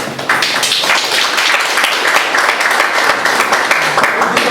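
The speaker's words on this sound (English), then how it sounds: "I'd like to ask for a round of applause for our ladies" A conference audience applauds panelists at an emerging-markets event, a loud, steady wash of clapping from many hands, sustained and close throughout the whole stretch with no talk over it.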